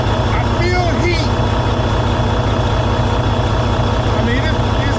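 A diesel truck engine idles steadily and loudly up close, a continuous low rumbling throb with a constant mechanical whine, and faint chirping noises drift in briefly over it.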